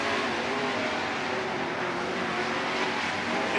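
Race cars at full speed around Lernerville Speedway on the white-flag lap of a feature race, a steady, dense engine roar that holds loud and unbroken throughout.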